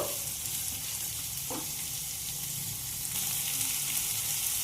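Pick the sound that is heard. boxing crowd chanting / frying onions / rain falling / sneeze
frying onions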